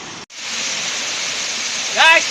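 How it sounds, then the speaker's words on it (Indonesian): The fifth tier of a seven-tier waterfall in Aceh Tamiang, Indonesia, gives a loud, steady rush of falling water with one brief dropout, and a short high voice cuts in near the end. "ini air terjun yang ke-5"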